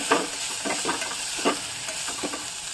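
Pavta field beans sauté in hot oil, giving a steady sizzling hiss broken by several soft scraping stirs of a spoon in the pan, close and fairly loud. No talking.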